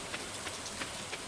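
Steady rainfall in the Stardew Valley video game, a dense even hiss of drops with soft periodic pulses, moderately quiet and without voices.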